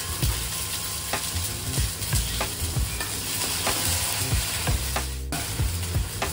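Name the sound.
stir-frying salted fish with chili in a pan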